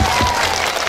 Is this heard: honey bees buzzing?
no